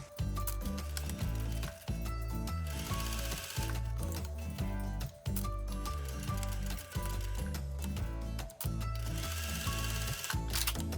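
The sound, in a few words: sewing machine stitching around seam allowance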